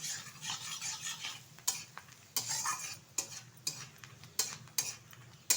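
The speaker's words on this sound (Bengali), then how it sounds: "নারকেলটা হালকা একটু নেড়ে চেড়ে নেব" Grated coconut fries gently in oil with turmeric for a yardlong bean and potato curry, a spoon scraping and clinking against the pan in repeated strokes over a faint sizzle.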